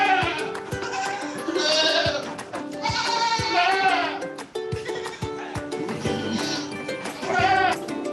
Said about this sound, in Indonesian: Di kandang yang pertama ini terdapat kambing yang jenisnya adalah kambing kacang.